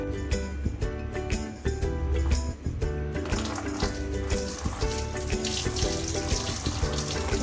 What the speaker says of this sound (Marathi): वरचं सगळं हे पाणी आलेलं आहे ना, ते ओतून द्यायचं आपल्याला.